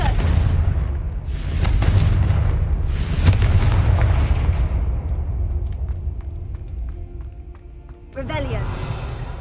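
Fire-spell explosions from the Confringo charm in Hogwarts Legacy on PS5, heavy booms bursting repeatedly over a rumbling game soundscape, then a sharp crackling burst near the end.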